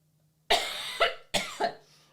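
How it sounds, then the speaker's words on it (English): Two close bursts of coughing, each a harsh double cough, loud and near, with a short pause between them and silence before. "hold on, coughing fit."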